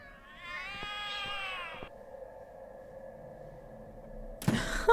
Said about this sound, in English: The cat's going nuts.